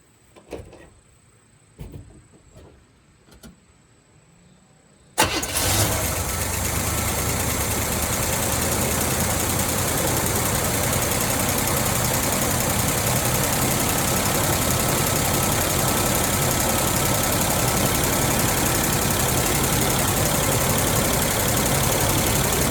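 A few clicks and clunks come first, then a Chevy engine starts abruptly and settles into a loud, steady, close idle that continues unbroken to the end.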